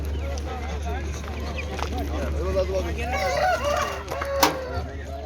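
Clucking chickens and a rooster, including a Denizli rooster, among a noisy poultry market crowd in Çubuk, Ankara, with people talking throughout over a constant low hum.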